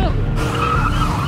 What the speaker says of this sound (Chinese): 然后他们开着汽车逃离这里